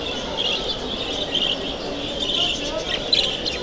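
A caged canary hybrid chirps in short bright bursts over steady background hiss, with someone speaking nearby.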